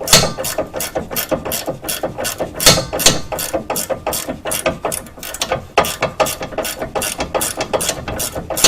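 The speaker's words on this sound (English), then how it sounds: "I get a ratcheting wrench here." A ratcheting wrench clicks loudly and close while turning a sway link bolt on a GD Subaru Impreza WRX, quick rhythmic bursts of pawl clicks repeating steadily throughout with no voices.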